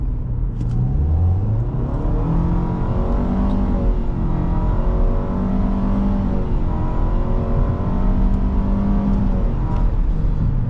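A 2017 Nissan Rogue SV accelerates hard, heard from inside the cabin as a loud, continuous engine drone and whine whose pitch climbs in smooth repeated sweeps as it picks up speed.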